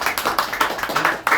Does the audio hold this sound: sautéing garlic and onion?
no